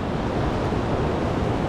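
Ocean surf on the beach at Itapema at night in light rain, a continuous broad wash of waves and wind rumble, steady and fairly loud, with no voices.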